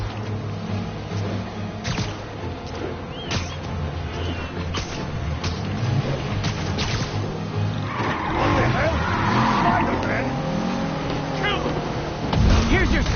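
Engine roar from a car chase in a Spider-Man video game, with vehicle rumble, swooshing passes and busy layered game effects building louder toward the end. Skidding tires are not clearly picked out.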